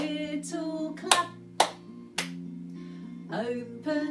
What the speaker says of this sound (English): Give a little clap.